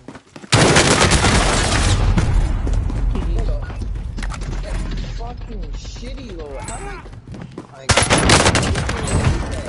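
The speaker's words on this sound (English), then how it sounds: "He's got an AK, and he killed me from mad far with no recoil." AK rifle fire in Warzone, with loud, rapid bursts of automatic shots opening and closing the clip and scattered distant firing in between, while a voice talks excitedly over the middle stretch.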